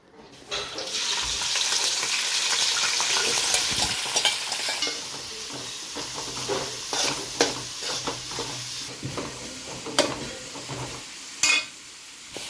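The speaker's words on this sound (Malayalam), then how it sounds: "ഇനി നമുക്കിത് വഴറ്റിയെടുക്കാം" Onion, green chili and curry leaves sautéing in coconut oil in a pan, a soft sizzle with frequent stirring scrapes and clinks, louder early then settling, up close with no talk.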